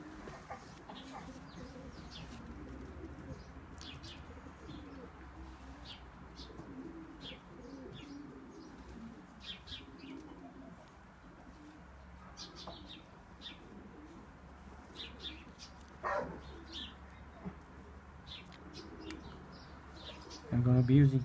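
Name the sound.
injured pigeon cooing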